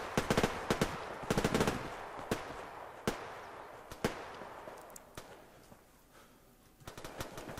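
Gunfire in the online shooter Survarium, with bursts of automatic fire and single shots cracking at irregular intervals, some dense and near, others sparser and more distant, over a low rumbling background.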